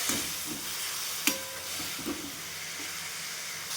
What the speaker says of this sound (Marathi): पालकामध्ये जो कच्चापणा असतो तो निघून जातो असं भाजल्यानं तेलामध्ये भाजल्यामुळे तर छान भाजून घ्यायचं दोन ते तीन मिनिटपर्यंत